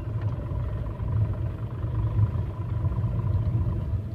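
A Tata Tigor car driving in second gear, a steady low engine rumble heard from inside the cabin, continuous and moderately loud with slight surges, no voices.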